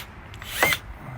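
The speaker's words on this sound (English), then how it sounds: "So I'm going to have to drill a hole then" A power drill drives a self-tapping screw into aluminum in a brief, sharp whir of under half a second, close and fairly loud over a low background hum.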